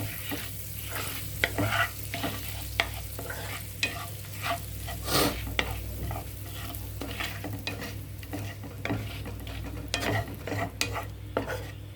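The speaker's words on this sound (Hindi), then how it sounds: "तो अब हम खड़े मसाले डाल रहे हैं सारे। खड़े मसालों को हल्का सा सौते करेंगे।" Whole spices sautéing in melted butter for shahi paneer, with repeated scraping strokes of a spoon against the pan over a constant sizzle, close and fairly loud.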